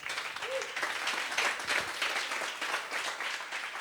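A church youth congregation applauds during a Spanish-language Christian sermon, a steady, dense wash of clapping filling the room throughout, moderately loud and without talk.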